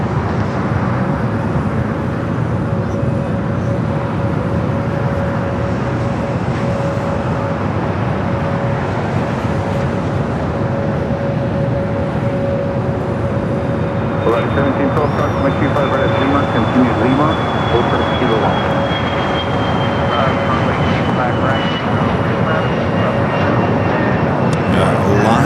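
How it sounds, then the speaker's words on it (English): A Delta Airbus A330neo arriving from JFK on the south side at LAX, its steady jet roar holding throughout with a faint rising whine, while a voice talks over it. "we got that Airbus A330neo up next for arrival here on the south side"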